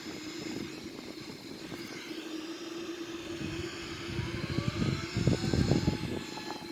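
A Boeing 787 in a flight simulator game runs both jet engines with a steady whine and low rumble, which swells slightly toward the end, and no talk.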